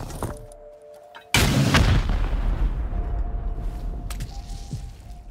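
A shotgun trap fires in the Rust video game during a raid on a quarry, a sudden loud blast that cuts in from near quiet and leaves a long rumbling tail.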